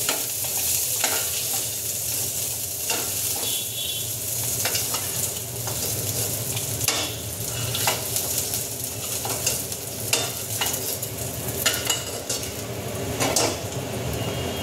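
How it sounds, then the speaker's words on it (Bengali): Soybean chunks deep-fried in hot oil for a chilli soya dish are lifted out, with steady frying sizzle under repeated clinks and scrapes of a metal utensil against the pan, close and continuous without talk. "সয়াবিনটা আমার ভাজা ভাজা হয়ে গেছে, আমি তুলে নিচ্ছি।"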